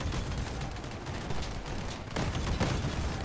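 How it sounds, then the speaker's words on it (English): Grenade explosions and heavy weapon fire rattle through a vehicle battle in the game Crossout, a dense, continuous barrage of overlapping blasts with a couple of stronger bursts near the end. "Oh, don't hit me with the grenades."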